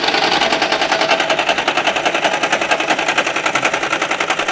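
An old car engine runs with a loud, rapid, pulsing rumble, close and steady with nothing else heard.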